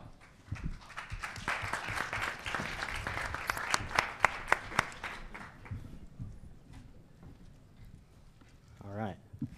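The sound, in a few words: applause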